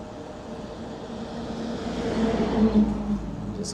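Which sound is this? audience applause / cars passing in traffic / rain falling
cars passing in traffic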